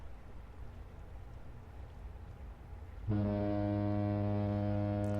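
A ship's foghorn in The Great Ace Attorney Chronicles sounds one deep, loud, sustained blast, cutting in suddenly over a soft rain-like hiss and holding steady without fading.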